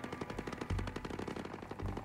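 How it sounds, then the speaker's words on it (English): Rapid automatic gunfire in the tactical shooter Ghost Recon Breakpoint rattles in dense, fast bursts, fairly faint and distant, with no talk over it. "There's gunfire."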